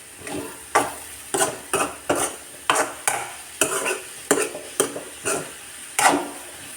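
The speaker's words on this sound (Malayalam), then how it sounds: "ഇനി ഇത് നന്നായിട്ടൊന്ന് ഇളക്കി എടുക്കും" Banana flower thoran, a Kerala-style stir-fry, being stirred in a pan: a steady run of scraping, clattering strokes against the pan over a faint sizzle, close and fairly loud, with no voices.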